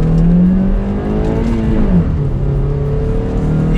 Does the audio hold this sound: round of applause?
no